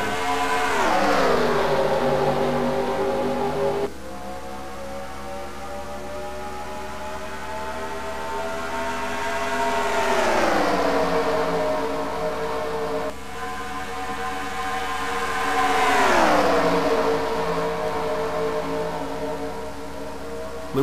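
Race car engines rev and accelerate in a NASCAR racing video game at Texas, with loud, steady droning tones that sweep down and climb back up in pitch several times.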